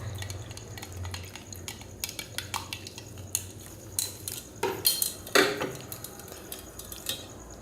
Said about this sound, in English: you should definitely remember to stir it rapidly after adding the sodium hydroxide pellets